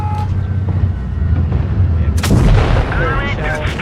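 Tank cannon shots in a tank video game, fired from an Emil 1 tank, sound out as a heavy boom followed by a sharp loud blast, each with a rumbling tail over engine noise.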